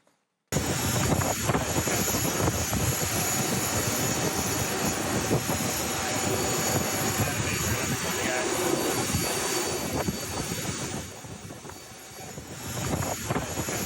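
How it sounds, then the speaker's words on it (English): Jet aircraft on an airport tarmac, a steady loud broadband engine roar and whine that persists throughout with little change, dipping briefly near the end, with faint talk beneath. "that jet was waiting on the tarmac"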